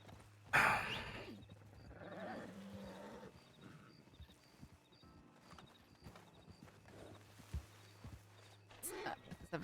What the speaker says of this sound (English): Watch the horse.